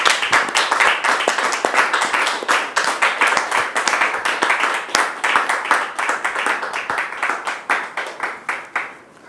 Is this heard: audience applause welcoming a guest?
yes